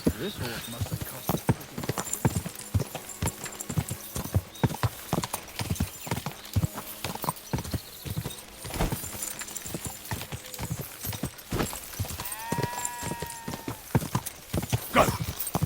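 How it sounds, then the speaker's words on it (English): Hooves clip-clop steadily as a horse gallops in the medieval video game Kingdom Come: Deliverance II, close and fairly loud, with a whinny near the end and talk over it. "This horse must have cost"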